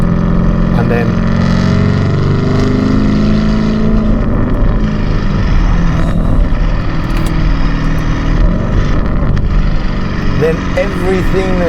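A Ferrari F8 widebody supercar switched into Corsa mode drives with a loud, continuous engine and exhaust drone, with heavy wind rumble throughout and faint voices underneath.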